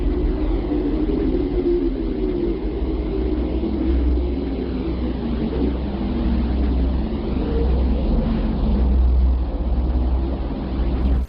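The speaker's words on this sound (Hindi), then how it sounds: "अब हम लोग चांद की उस रहस्यमयी आवाज को सुनेंगे, जिसे प्रज्ञान रोवर और विक्रम लैंडर ने चंद्रमा की धरती से भेजा है।" Recording presented as a mysterious Moon sound sent by the Pragyan rover and Vikram lander of Chandrayaan-3: a constant low rumbling drone with wavering mid tones, steady and loud throughout, with no voices.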